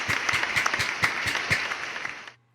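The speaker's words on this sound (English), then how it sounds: "You can at least clap." A short burst of clapping from a small group during a basketball talk show, steady and fairly close, cutting off abruptly near the end.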